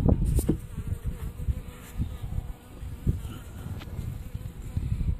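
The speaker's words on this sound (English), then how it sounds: "Look at all those bees." A swarm of honeybees buzzing around hive frames during a beehive inspection, a steady close drone with occasional handling bumps and no talk.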